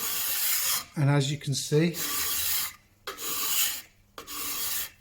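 A card scraper rasps across a varnished oak bench top in several short, rough strokes separated by brief pauses, with someone speaking briefly between the early strokes.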